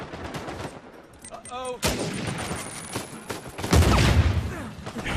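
Gunfire in the video game Uncharted 4, with several loud shots and a burst of rapid fire ringing out across a few seconds over a busy game soundscape.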